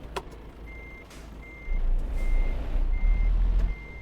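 Repeated reversing beeps from a truck in Euro Truck Simulator 2, steady evenly spaced tones over a low diesel engine rumble that swells partway through, with a hiss of air brakes.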